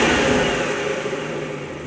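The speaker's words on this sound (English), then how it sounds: "the MST intake, which we'll throw up some sound clips now of it" A BMW M140i engine with an aftermarket MST intake revs hard with a throaty, deep intake roar, loud and close, holding steady for about two seconds.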